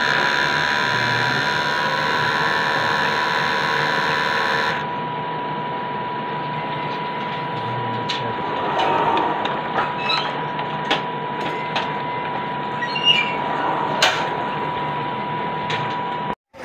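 An Epson XP600 printer running a head cleaning cycle at a Fisher Mall print station: a steady loud mechanical drone with a persistent whine that drops in level after a few seconds, then intermittent clicks and rattles before stopping abruptly.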